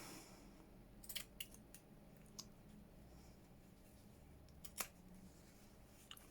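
Scissors snip through paper scraps for page decoration, with a few quiet, sharp cuts spaced irregularly against a faint room hiss.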